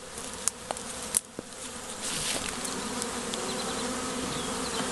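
Honey bees swarming at a hive, a steady dense buzz of many insects throughout, growing fuller after the first two seconds, with a few sharp close passes and knocks early on.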